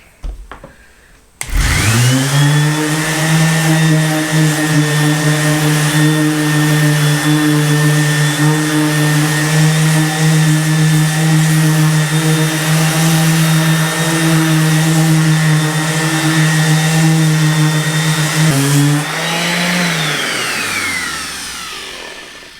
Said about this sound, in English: I would rather just try to sand this out. So I've got some 60 grit on here